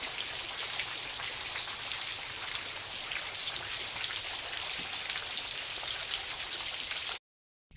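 Steady rain pours onto surfaces outdoors, a dense, even patter of drops that continues without a break, with no voices over it.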